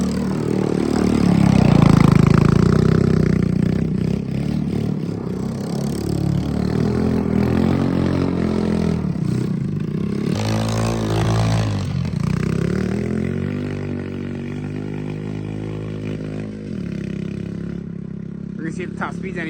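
A three-wheeler fitted with a 125cc engine revs and drones, rising and falling in pitch as it approaches, with people talking over the engine throughout.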